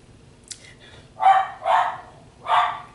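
A schnauzer barks three times in quick succession indoors, fairly close and loud, after a brief softer yip.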